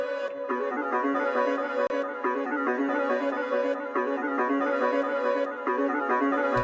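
A hip-hop beat plays with two layered tracks, one pitched down an octave, a steady looping pattern of repeating hits and sustained melodic tones, loud and unbroken with no talking.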